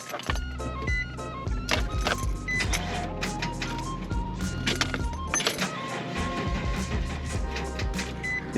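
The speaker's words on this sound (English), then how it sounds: "Here, I'm trying to start it with the beamer keys." A 2006 truck is started with a BMW key after a transmission control module replacement: clicks and whirring from the ignition and electrics, then a steady engine running close by.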